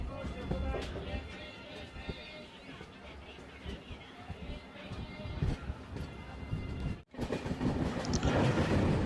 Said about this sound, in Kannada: ನಮ್ಮ ಟ್ರೈನ್ ಈಗ ಕೃಷ್ಣಾ ನದಿನ ದಾಟ್ತಿದೆ